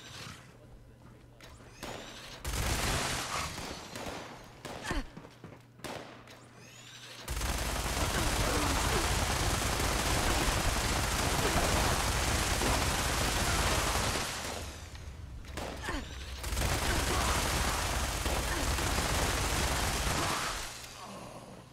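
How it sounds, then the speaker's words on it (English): Accelerated minigun in Fallout 76 fires in long, loud, continuous bursts, a dense roaring stream of rapid shots running several seconds at a time, broken by short gaps and brief quieter stretches of lighter shots. "it's an accelerated minigun, and it, yeah, it wastes, you know, tons of ammo"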